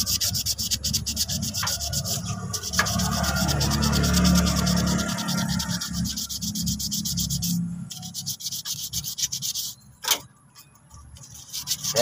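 Sandpaper scrubs rust from metal in rapid, continuous back-and-forth strokes, close and loud, easing off briefly near the end before resuming.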